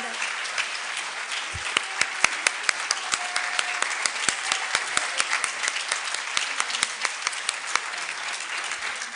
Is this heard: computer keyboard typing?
no